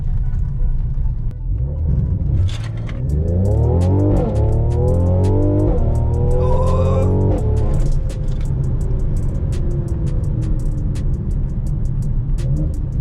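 A car with a stage 1 tune and upgraded turbos launches from a standstill, its engine note climbing loudly through several rising revs and shifts before settling into steady road roar.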